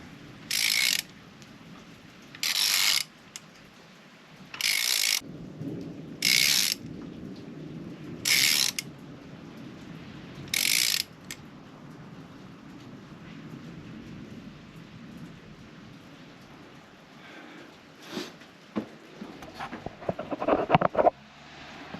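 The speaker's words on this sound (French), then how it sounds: "La pompe elle va tourner." The injection pump on a Mercedes W210 E290 with an OM602 diesel engine is turned by hand: six sharp ratcheting bursts at roughly two-second intervals, close and clear, then quieter mechanical shuffling and a few clicks.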